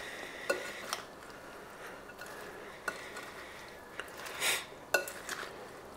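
A sprouts salad dressed with the juice of two lemons is stirred in a bowl with a spoon. Soft, moist mixing rustles run under a few sharp clinks of the spoon against the bowl, with no voices.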